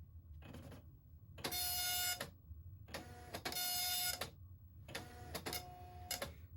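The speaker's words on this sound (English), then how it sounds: "then I'll let it print the first little bit like that" A dot-matrix printer prints a Broderbund Print Shop page in three loud bursts of rapid head strikes, with short pauses between the passes.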